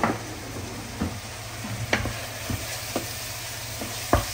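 Chicken curry masala stirred in a pan on an electric stove, with irregular spatula scrapes and taps over a steady low sizzle, close by and without speech.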